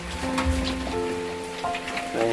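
Steady drizzle falls over outdoor guppy fish tanks, a continuous soft patter of raindrops on water and surfaces, with faint tonal hums in the background and no talking.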